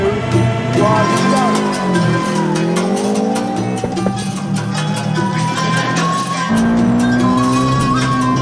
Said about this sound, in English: the race will be run in a 340 brake horsepower Subaru rally car